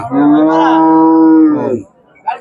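A single long, loud moo from cattle at a cattle market, close and clear for nearly two seconds, then a brief pause before a faint voice begins.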